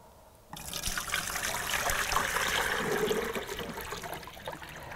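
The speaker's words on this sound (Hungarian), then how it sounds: "Merek a tónak a vizéből, pont annyit, hogy az akváriumot meg tudjam tölteni." Lake water is scooped up to fill an aquarium: after a brief hush, a steady splashing, gurgling pour starts close by and runs on without pause.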